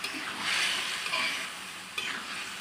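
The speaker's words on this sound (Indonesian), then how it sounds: "kita masukkan bahan utama ini dia kita aduk-aduk" Stirring dried anchovies, tempe gabus and pete in a hot pan, a steady frying sizzle with scraping strokes that rise and fall, and a sharper stir near the end.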